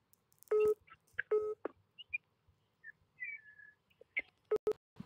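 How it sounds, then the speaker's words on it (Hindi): A telephone call comes in during a live stream: a sparse series of short electronic tone bursts and chirps, separated by quiet gaps. "एक कॉल आ गया था इसलिए स्ट्रीम 2 सेकंड के लिए रोकनी पड़ी"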